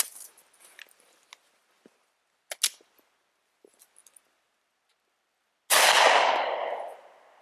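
A Glock pistol loaded from a KCI Korean magazine fires once, a loud, sharp report with a long ringing decay, after scattered quiet metallic clicks and handling noises.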